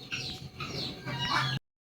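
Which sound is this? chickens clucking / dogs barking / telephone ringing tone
chickens clucking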